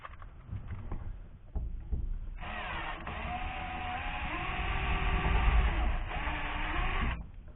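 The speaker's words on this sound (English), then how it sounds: "Got to drill out the old rivets" A power drill whines steadily for several seconds, a sustained grinding buzz close by as it drills out old rivets on a 1987 Jeep J-20 pickup's rear window slider latch, starting after a few short mechanical knocks and clicks.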